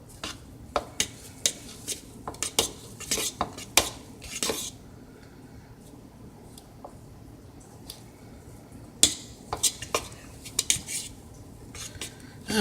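Focaccia dough with parsley being mixed in a bowl, giving irregular clinks and scrapes of a utensil against the bowl along with soft squishy sounds, in bursts broken by quieter gaps.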